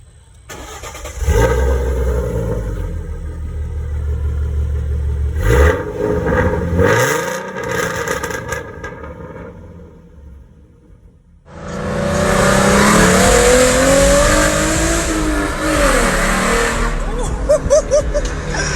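Car engine with ported intake and ported throttle body idling, then revving hard with a deep, loud roar, rising and falling in pitch, close by.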